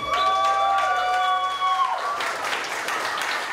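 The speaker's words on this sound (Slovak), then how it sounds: "Obrovský potlesk." Wedding guests applaud after the newlyweds' first dance: a dense, steady wash of clapping fills the room, taking over as a sustained tone fades.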